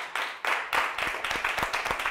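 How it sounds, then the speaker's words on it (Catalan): Applause for a young contestant on a school spelling quiz show, a steady, dense wash of clapping from a studio audience, fairly close and loud, with no talking. "però un fort aplaudiment per la Lia"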